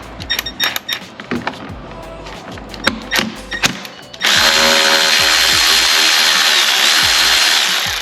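A power tool removing a small bolt under the hood of a third-generation Toyota Tacoma, heard first as several short loud ratcheting bursts and then as one long steady whir, close up.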